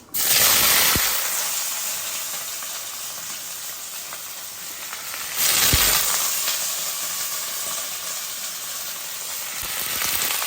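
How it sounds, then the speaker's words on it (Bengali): Ivy gourd and potatoes sizzling steadily in hot oil, a continuous loud frying hiss with a sharp burst at the start and another surge midway as pieces are added or stirred, no talking. "কুঁদরি আলু ভাজবো"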